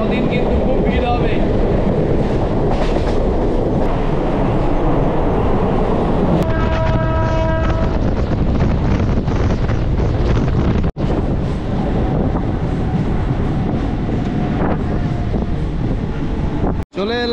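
Digha Rath Yatra special train in motion, a steady loud rumble of rolling carriage and track noise with wind buffeting, a brief tonal squeal midway and a short break near the end.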